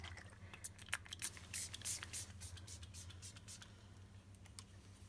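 An aromatherapy room mist spray is shaken and pumped into the air, giving several short, close hissing spritzes in quick succession early on before fading into quiet room tone.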